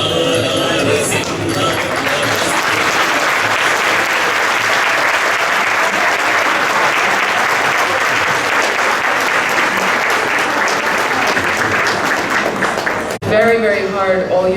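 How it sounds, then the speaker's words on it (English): Loud, sustained crowd applause at an outdoor Rath Yatra festival in Toronto, dense clapping filling the whole stretch, with a voice briefly heard at the end. "So we just give another very big round of applause to everyone."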